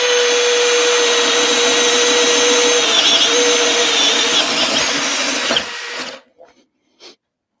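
Milwaukee and Dewalt 12V cordless drills whine loudly and steadily for several seconds while drilling, then spin down and stop, leaving a brief faint click.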